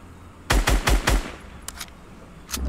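Video game gunfire from a custom match: a quick volley of four loud, punchy shots in rapid succession, then a couple of fainter, more distant shots, followed by one more burst near the end.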